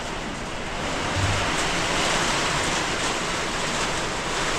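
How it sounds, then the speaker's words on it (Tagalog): Strong typhoon wind battering a hut during a power outage, a loud, steady broadband roar that swells slightly after the first second and keeps blowing without pause, with no one talking. "Lakas ng hangin."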